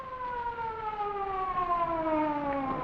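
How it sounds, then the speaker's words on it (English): An ambulance siren in a 1938 film soundtrack, a steady loud wail with slowly gliding tones that continues throughout, with no speech over it. "Sounds like an ambulance."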